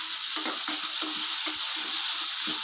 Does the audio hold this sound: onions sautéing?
yes